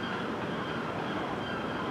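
Steady low rumble of a passenger train from London Victoria rolling into Southampton Central station, a continuous dense roar with no voices.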